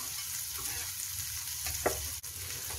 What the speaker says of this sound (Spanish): Vamos a freírlos así hasta que estén doraditos los dos